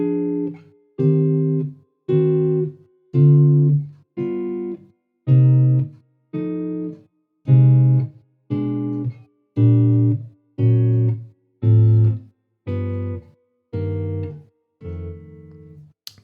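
Slow guitar comping through rhythm changes chords, fourteen evenly spaced strummed chords ringing one after another, each sustained about a second and then damped, played close and clear without any talking.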